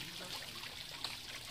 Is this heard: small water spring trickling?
yes